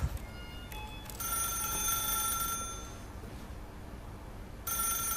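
A telephone rings in The Stanley Parable, repeating electronic bell bursts that start and stop, then return near the end, steady and fairly loud with no voices.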